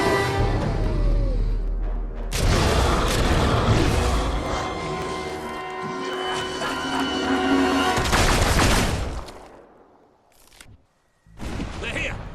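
Gunfire and explosions in a Fable 3 cutscene battle at a rear gate, a loud, dense barrage of shots and booms under shouting voices, then a brief lull before the firing resumes.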